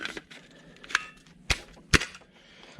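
A DeWalt 20V battery pack slides and clicks onto a portable battery-powered soldering station, giving a few sharp plastic clicks and snaps spread over a couple of seconds, close and fairly quiet.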